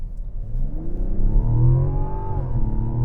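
The turbocharged inline-six of a 2024 Mazda CX-90 revs up in a smooth rising pitch, holds near the top, then eases slightly, heard clearly and close with no talk.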